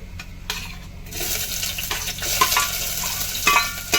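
Sliced onion sizzles in hot oil in a pan while being stirred for chicken biryani, a bright frying crackle that swells after a quieter opening and keeps on with scraping stirs.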